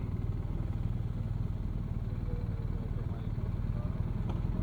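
Motorcycles passing on a street along the Cais de Gaia waterfront on a Sunday, a steady low engine drone heard through an open car window, fairly faint and continuous, with a voice faintly present.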